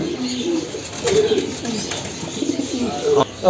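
Pigeons kept at home for sale on a rainy day give repeated soft, throaty coos close by, while people talk over the cooing throughout.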